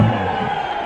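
Crowd at a cricket final roaring and cheering for the Dragons, a loud continuous wash of many voices with no pause.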